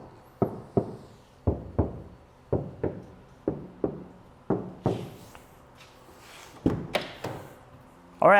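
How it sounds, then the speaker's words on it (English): Knuckles rap on the outside of a Subaru BRZ door panel without sound deadening, heard from inside the cabin: a series of sharp, hollow knocks in uneven clusters of one or two, fairly close, with a slightly tinny ring. "I'm gonna be knocking on the door from the outside."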